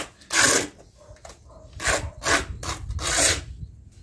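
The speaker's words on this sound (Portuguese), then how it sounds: "Aí eu nivelo ela batendo de um lado do outro." A stone slab is leveled by tapping on one side and then the other, giving a series of three or four short, gritty knocks and scrapes spaced about a second apart, close by.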